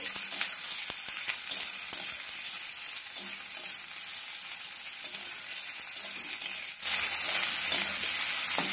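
Sliced onions frying in hot oil for a mutton masala curry, giving a constant bright sizzle that briefly dips and then returns a little louder as they are stirred.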